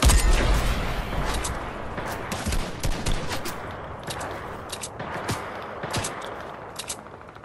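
Railgun and other weapons fire in a first-person shooter game, rapid bursts of sharp shots and impacts in uneven clusters, loud at the start and continuing at a moderate level.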